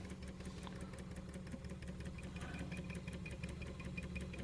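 A Wilesco D430 Lokomobile model steam engine runs quietly and steadily, a soft, even mechanical chatter with a faint rhythmic beat continuing throughout, with no voices.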